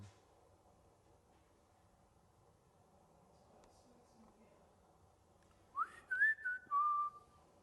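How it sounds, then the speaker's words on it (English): A person whistles a short, bright rising-then-falling tune of a few notes near the end, clear over a quiet background with low ambient rumble. "Just let them know that it's us whistling."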